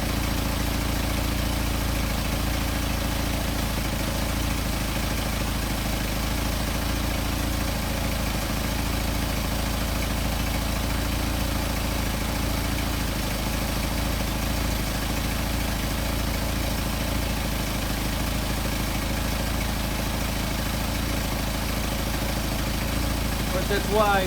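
A Mercedes 190SL engine running on Solex carburetors idles steadily and evenly throughout, a close, constant low rumble with no revving.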